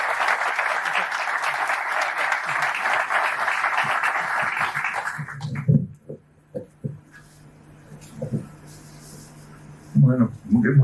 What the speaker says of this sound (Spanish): Lo presentamos con un fuerte aplauso.